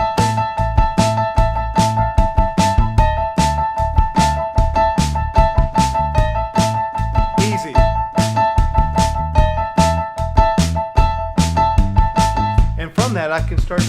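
Piano plays band-style accompaniment built on perfect fourths, with dense, steady rhythmic chords throughout and a brief untidy flourish near the end.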